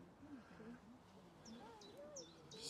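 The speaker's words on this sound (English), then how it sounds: "You hear the bird song in the background?" Birds chirp faintly in the background along the Hortillonnages water gardens in Amiens during a boat trip past weeping willows, with a few brief high calls under close conversation.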